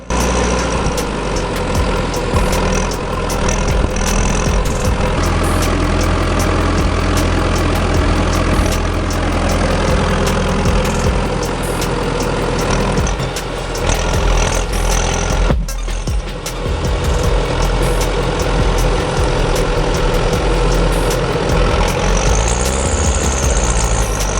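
A heavy logging machine stuck in forest mud idles steadily, its deep, loud engine drone running continuously without pause, with no talking.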